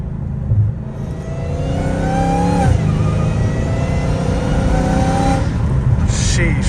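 A Dodge Hellcat Redeye accelerating hard, its loud engine note climbing through rising revs with a gear change partway, heard from close by with a voice talking over it.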